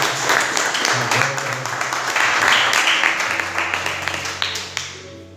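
A church congregation claps during a worship service, uneven clapping with scattered sharp hand claps over a low sustained tone, moderately loud and fading off at the close; some vocal sound mixes in.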